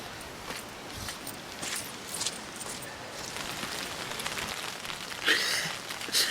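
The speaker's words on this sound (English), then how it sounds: "It's pissing down rain, which is typical." Heavy rain falls outdoors at a fishing lake, a steady soft patter of drops on surfaces with occasional louder close taps, fairly quiet overall.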